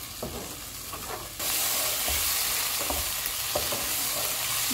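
Masala and green chillies frying in oil for dal makhani, stirred as they cook; a loud, steady sizzle with repeated scraping stirs, growing fuller partway through.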